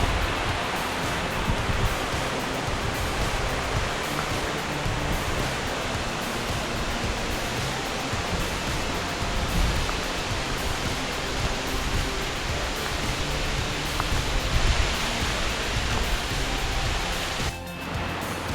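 A roaring waterfall at a popular spot in Tahiti, heard as a steady, loud, broadband rush of falling water that continues without a break and has no voices over it.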